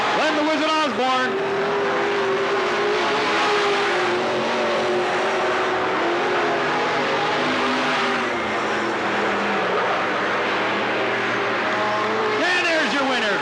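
Race cars roar around the Cottage Grove Speedway oval in a late-lap push to the finish, a loud sustained engine drone rising and falling as cars pass, with an announcer talking over it.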